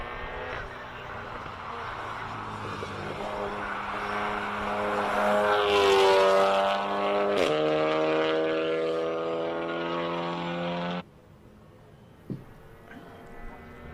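A Volkswagen Golf 7R race car's engine drones and climbs in pitch as it passes nearby at a hill climb, tones shifting, then cuts off abruptly, leaving quieter background noise.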